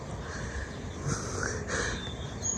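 A couple of harsh crow-like caws ring out over a steady background rumble, moderately distant, with no talking.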